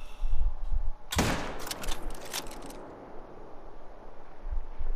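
A single hunting rifle shot fired at a piebald hind in The Hunter: Call of the Wild, a sharp loud crack followed by a rolling echo that fades out over a couple of seconds against wind.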